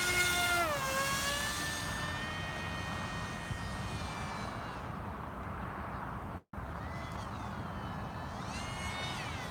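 A small Nano Talon RC airplane flies by on a 4S battery. Its motor whines at a high pitch, rises and falls in tone as it passes, and stays fairly faint and distant.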